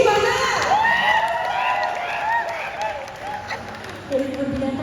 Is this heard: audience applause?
yes